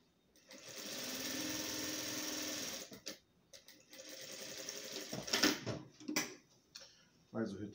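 A sewing machine stitches strips of Oxford fabric scrap for a patchwork rug, running in quick rattling bursts with brief stops between them. It reverses for backstitching, and a voice talks softly between runs.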